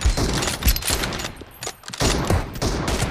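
Rapid gunfire in the mobile shooter BGMI rattles in repeated close bursts, loud and dense with short gaps, dominating the clip.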